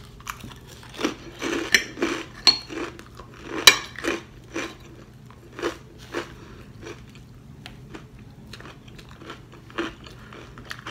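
Crunchy oven-cooked strawberry waffles are bitten and chewed close up, giving a series of sharp, irregular crunches and softer chewing noises against a quiet background with no talking.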